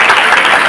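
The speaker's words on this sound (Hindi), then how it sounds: "सभागृह में उपस्थित सभी से अनुरोध है कि जोरदार तालियों से सभी का उत्साहवर्धन करें, अभिनंदन करें।" Audience applauding new appointees at a job fair ceremony in an assembly hall, a brief, loud, dense burst of clapping from many hands filling the whole moment.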